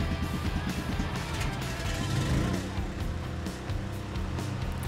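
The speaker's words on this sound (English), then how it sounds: "If you have a self-contained unit, start the motor." A self-contained hydraulic power unit motor runs on a truck trailer rig, a loud steady rumbling drone close by with a rhythmic low pulsing at first, running alone without talk.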